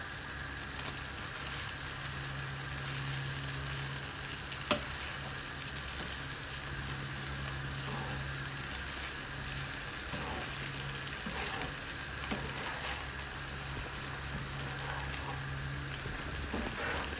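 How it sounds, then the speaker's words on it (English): Char Kway Teow rice noodles stir frying in a hot pan with eggs and Thai fish sauce, a steady crackling sizzle like light rain running throughout, with occasional sharp clinks of a utensil against the pan. "We gotta stir fry it a little bit more"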